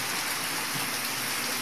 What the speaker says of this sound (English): So it's coming down somewhat hard.